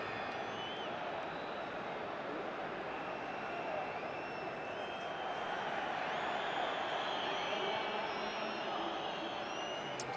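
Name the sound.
football crowd noise in stadium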